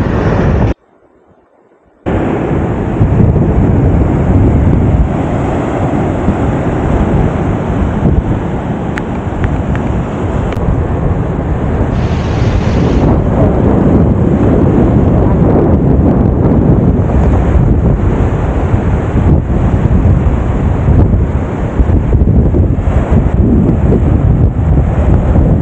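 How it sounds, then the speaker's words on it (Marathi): Sea surf and strong wind roar beside Reis Magos Fort in Goa, a loud continuous rush of breaking waves heavily buffeted by microphone wind, with a brief dropout near the start. "लाटा बघा लाटा."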